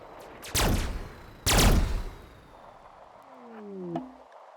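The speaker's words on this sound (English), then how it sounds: "these turrets are going crazy after their turrets" Turret gunfire in RimWorld, two loud sustained bursts of rapid shots one after the other, followed by a brief lower electronic tone and fading rumble.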